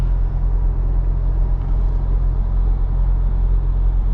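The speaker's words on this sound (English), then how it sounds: "you can enjoy the exhaust note, and it has a nice deep throaty tone to it" Steady, deep, throaty exhaust rumble from inside a moving 2021 Roush Ford Ranger pickup truck, low and continuous with no talking.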